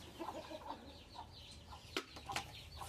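Chickens being herded into a basket cluck and chatter close by in quick, uneven bursts, with a couple of sharp louder clucks and a brief rustle of movement near the end.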